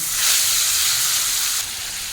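Pomfret fish frying in hot oil gives a steady, loud, bright sizzle that eases slightly near the end, with no talking.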